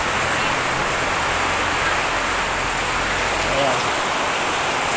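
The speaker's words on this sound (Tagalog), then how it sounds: "Medyo malakas yung ulan dito ngayon." Steady, heavy rain pours down, a dense continuous hiss that fills the whole moment without pause.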